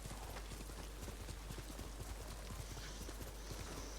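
Horse hooves gallop at a steady, rapid rhythm in the game Ghost of Tsushima, a continuous quick clatter of footfalls over low ambient noise with no talk.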